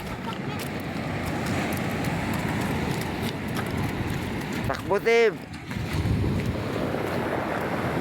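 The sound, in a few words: big sea waves in a storm, boat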